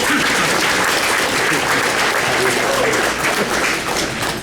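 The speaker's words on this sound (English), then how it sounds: "Let's give our tribal chairman a big round of applause." Applause from the audience at the 2012 Red Lake Nation College graduation ceremony, a dense, steady clapping that fills the hall for several seconds without pause, loud and close, with faint voices mixed in.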